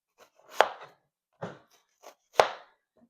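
A knife chops onion on a cutting board in a home kitchen while curry chicken is being prepared, giving a handful of crisp, separate knife strikes spaced irregularly, close and fairly quiet with silence between them.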